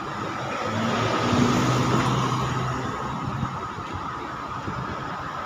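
A car turning through a Bangkok street at night, its steady mid-range engine hum rising slightly then holding, with broad traffic wash around it and no talking.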